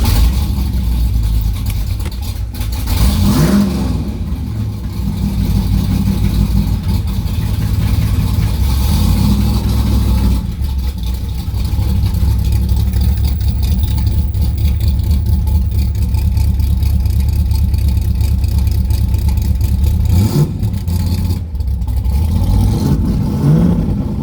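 A carbureted car engine runs steadily and loudly throughout, a constant low rumble with brief rises in revving, heard close and without talking.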